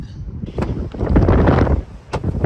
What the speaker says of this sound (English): suddenly it's like the windiest day ever.